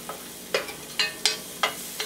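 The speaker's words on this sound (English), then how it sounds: "putting some olive oil and sauteing 1 cup of finely chopped onion" Finely chopped onions sautéing in olive oil over medium heat for a vegetarian chili, with five distinct scraping stirs spaced about half a second apart over a faint sizzle.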